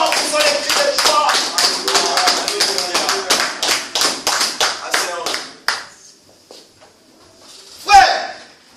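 Congregation at a French-language church service claps in a fast, steady rhythm for several seconds, loud and close, with voices mixed in, then the clapping stops and a brief shout rises afterward.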